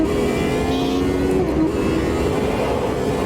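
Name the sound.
F Classic race car in Monaco tunnel, Automobilista 2 video game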